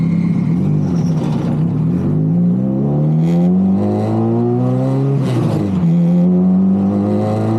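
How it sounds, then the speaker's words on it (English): An Adlerspeed twin disc clutch chatters on a car pulling away with the clutch barely let out and a little gas; a loud, steady engine drone wavers and rises in pitch, dips, then climbs again, with no voices. "Even if you're just barely letting out and giving it a little gas, it just chatters like crazy"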